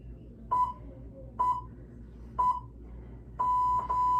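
An electronic workout interval timer sounds short clear beeps about once a second, three single tones followed by a longer double beep, over a quiet room hum.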